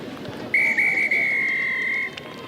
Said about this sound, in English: the final whistle by the referee